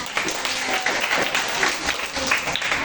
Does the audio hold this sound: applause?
yes